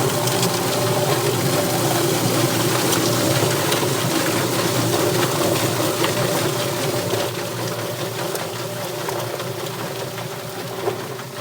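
Running water sprays and churns inside a whirring chicken plucker machine with chickens inside, a constant dense rush with mechanical rattling underneath.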